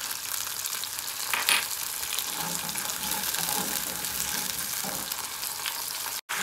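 Tamarind and jaggery mixture with salt and clove powder cooking in a pan, a steady soft sizzle and bubbling that continues throughout, with a faint clink partway through.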